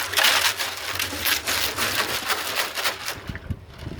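Abrasive grit being shaken around inside a Honda CB350 motorcycle fuel tank outdoors, a continuous gritty rattling and scraping with rhythmic surges, fairly close and steady, fading slightly toward the end.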